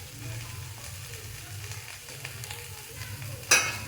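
Onions dropped into a pan of frying okra and potatoes, a steady low sizzle with faint stirring clicks and a sharp scrape near the end.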